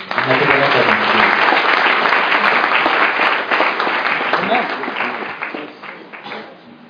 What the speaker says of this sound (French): Acclamons pour le Seigneur.